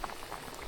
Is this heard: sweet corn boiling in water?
yes